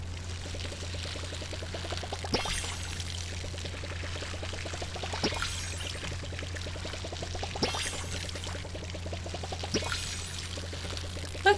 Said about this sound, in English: And then we're gonna grab the watering can.